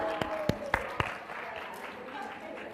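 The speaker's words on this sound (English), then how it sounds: "give yourselves a round of applause" An audience of participants applauds in a classroom or workshop setting, a soft, fairly distant patter of clapping with a few sharper individual claps near the start, fading gradually.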